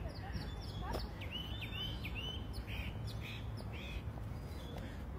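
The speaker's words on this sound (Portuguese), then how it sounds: "Barulhos de pássaro para todo lado." Birds chirping and calling in the Parque de las Mujeres Argentinas in Buenos Aires, several short tweets and squawks over steady outdoor park ambience.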